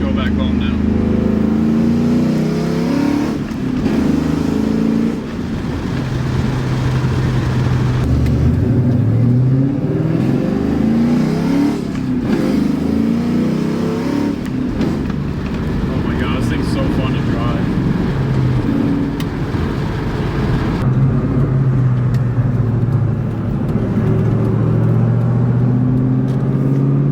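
A Ford Mustang fitted with Comp Cams and 3.73 Ford Performance gears makes a hard pull, its loud exhaust rumbling and swelling through repeated rises in revs, heard from close by with no talk over it.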